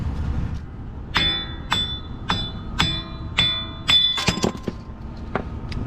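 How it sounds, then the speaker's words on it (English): A hammer strikes metal repeatedly while knocking out a Ford Explorer wheel bearing, about seven ringing clanks at a steady pace that quicken into a cluster near the end, over low engine-like rumble. "Now, I'm gonna grab a hammer. I'm gonna hit this and see if we can knock it out of there."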